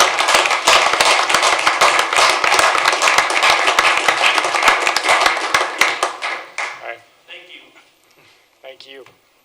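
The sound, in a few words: city council audience applauding staff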